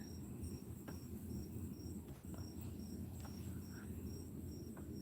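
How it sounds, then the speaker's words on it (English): Crickets chirp at night in steady, rhythmic pulses. The sound is faint and continuous over a low, quiet outdoor background, with no voices. "I love the crickets. They're singing for me tonight."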